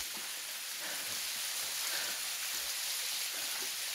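Rushing water of the Botuhelili waterfall in Tapaluluo village, Gorontalo, a steady broadband roar that stays even and continuous throughout, with no voices.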